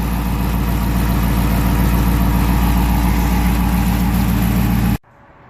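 A Dodge Charger R/T 5.7 Hemi engine fitted with a K&N Blackhawk cold air intake idles steadily with a deep, even rumble and a faint intake hiss, then cuts off abruptly near the end.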